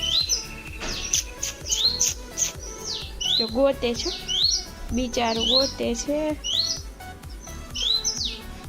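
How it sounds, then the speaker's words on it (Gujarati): Repeated high, sharp chirps from a sparrow chick close by, coming in short bursts while a person talks softly. "હિરેન આ ચકલાનું બચ્ચું, આ જેનું બચ્ચું છે ને જે ચકલીનું, એની માં છે."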